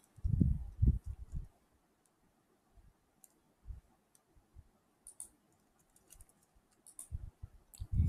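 Mouse clicks and keyboard typing while signing up to install WordPress on a website: a few sparse clicks and taps spread across a quiet stretch, with soft low thumps at the start and end.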